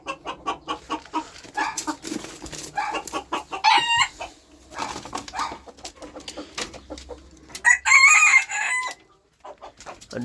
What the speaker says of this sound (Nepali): वन कुखुरा लुइचे भाले